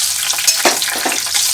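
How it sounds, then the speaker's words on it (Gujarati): Capsicum fries in hot oil seasoned with mustard seeds, cumin and asafoetida, giving a loud, continuous sizzle with soft stirring swishes through it. "શિમલા મરચાંને આપણે બહુ ચડવાના ના હોય એટલે આપણે પહેલાં એને તળીને કાઢી લઈશું"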